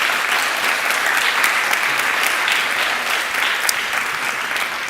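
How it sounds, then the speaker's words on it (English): An audience at a panel discussion on newsroom business models claps for the panelists, a dense, even wash of applause that holds steady and fairly loud throughout without pause. "I would first like to have a big round of applause for our panelists."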